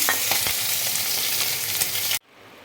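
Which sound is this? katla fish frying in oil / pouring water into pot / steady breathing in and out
katla fish frying in oil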